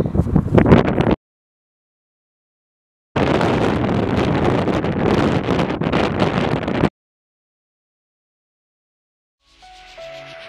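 Wind buffets an outdoor microphone in loud low rumbling bursts, two long gusts separated by silent gaps, with a fainter rustle at the end.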